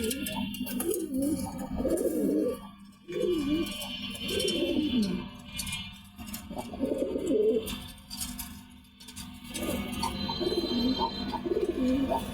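Pigeons coo in repeated soft, throaty bursts close by, several rounds separated by brief pauses over a low hum.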